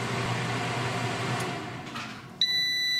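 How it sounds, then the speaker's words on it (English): An air fryer cooking fish tikka made from Pacific cod runs with a steady fan hum, then gives a sharp, bright electronic beep near the end, followed by a short ringing tone. "We are waiting for the final beep."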